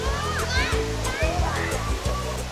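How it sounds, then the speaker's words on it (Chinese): A large tiered waterfall cascades in layers down a series of pools in Luang Prabang, Laos, producing a steady, loud rushing roar with children's voices and speech over it. "所以它其实是一个很大的阶梯瀑布群，这样一层一层的流下去。"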